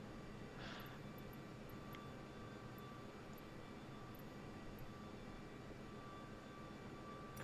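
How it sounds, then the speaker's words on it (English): An airliner engine spools up in a flight simulator game as a faint, steady roar with a soft hiss, with no voices. "We have a good engine start."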